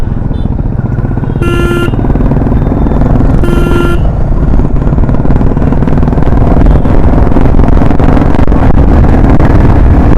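A Royal Enfield Classic 350 in emerald green thumps along on a night ride, its engine a loud, steady low rumble with wind noise and two short beeping tones early on.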